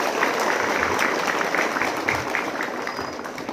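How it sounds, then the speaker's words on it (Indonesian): Steady, dense applause from a crowd of students at a Monday flag ceremony at SMPN 2 Pasirjambu, honoring the ceremony officers; loud, continuous clapping throughout. "Tepuk tangan dulu buat petugas upacara pada kali ini."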